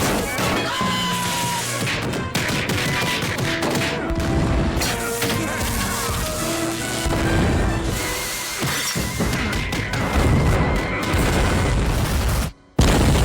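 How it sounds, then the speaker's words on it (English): Cartoon brawl destroying a science center in Family Guy, a dense loud run of crashes, shattering, booms and bursts of rapid fire, with talk and music mixed in throughout. "they brawl inside a science center and blow the entire place up"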